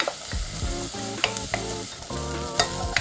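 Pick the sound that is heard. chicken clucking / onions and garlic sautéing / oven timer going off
onions and garlic sautéing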